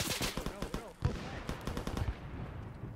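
Rapid bursts of video game gunfire crackle through a busy mix, with voices talking over the shots.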